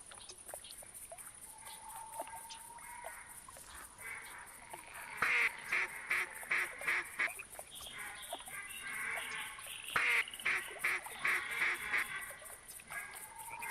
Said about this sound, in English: American black duck